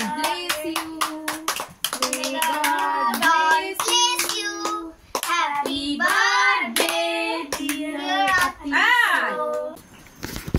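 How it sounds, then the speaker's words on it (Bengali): Family members clap hands at a child's birthday cake cutting in a home, quick bursts of close claps mixed with loud overlapping singing and children's voices throughout. "ক্ল্যাপ ক্ল্যাপ ক্ল্যাপ, জোরে জোরে।"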